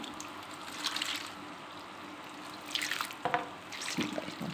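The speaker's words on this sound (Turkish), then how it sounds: "Şöyle suyu gezdiriyoruz." Water is poured over bread in a tray for a milk bread dessert. The soft splashing and trickling is fairly quiet and comes in a few short swells and splatters, with no talking.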